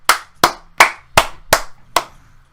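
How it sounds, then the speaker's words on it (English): One person claps six times in a quick, even rhythm, each sharp clap close and distinct with brief silence between. "round of applause for Land of Pab."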